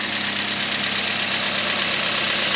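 A 2008 Toyota Yaris 1.3 litre engine idles close by after a coil pack replacement, with a smooth, even tick-over and a constant hum and no talking.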